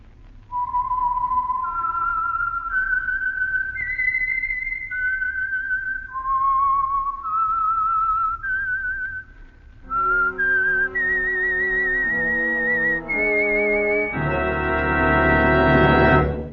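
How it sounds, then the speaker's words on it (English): Whistled theme of The Whistler, the Signal Oil radio program, a clear solo melody of sustained notes rising and falling, later backed by a swelling orchestral chord. "the signal to listen for is this whistle that identifies the Signal Oil program, The Whistler"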